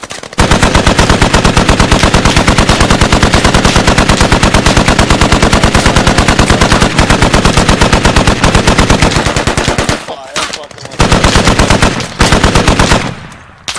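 A .50 caliber machine gun fires in the video game Squad. Loud, rapid sustained bursts run for about ten seconds, pause briefly, then resume in shorter bursts, with no talk over them.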